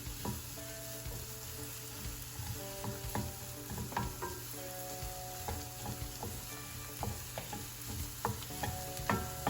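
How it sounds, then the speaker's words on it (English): Onions and chopped mushroom pieces sauté steadily in a pan, a continuous close sizzle broken by frequent stirring scrapes and clinks throughout, with no talking. "Keep sauteing all that out nicely."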